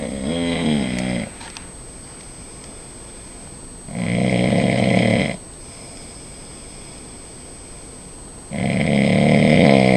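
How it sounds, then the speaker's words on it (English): A man snoring loudly, two long rasping inhalations separated by quiet pauses, close and alone. "Oh, he so snores."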